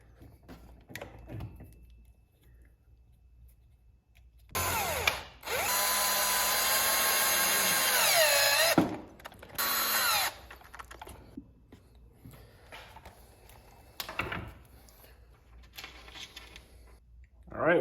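A power tool drives bolts to fasten bumpers onto an RC car, with a loud steady whirring burst lasting several seconds and then shorter bursts, surrounded by quieter handling clicks and some talking.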